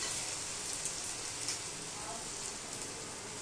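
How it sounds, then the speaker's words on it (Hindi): Semolina and yogurt batter fries in hot oil in a kadai, giving a steady, even sizzling hiss that holds at a soft level throughout. "चम्मच में हम बेटर लेंगे और दूसरे चम्मच की मदद से तेल में इसे डाल देंगे।"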